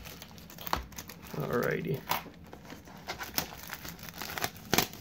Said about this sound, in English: we're going to try to open this up, not rip this open